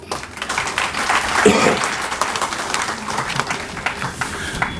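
A seminar audience gives welcoming applause for a speaker, a dense burst of many hands clapping that swells early and then carries on unevenly, fairly close and loud.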